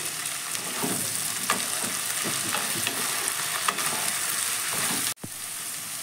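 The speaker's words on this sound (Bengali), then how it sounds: "1 মিনিট মতো একটু ভেজে নিচ্ছি" Vegetables, long beans and carrot, fry in oil in a pan for fried rice while being stirred, a steady close sizzle broken by scraping strokes, with one brief sharp drop near the end; no one speaks.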